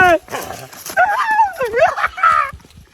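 Short dog yelps and whining barks in quick bursts, close and loud, mixed with a voice.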